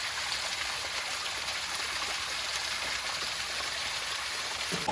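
Water falls steadily at the Namaste Jharna waterfall stream near Itahari, a constant broadband rushing hiss with no breaks and no voices.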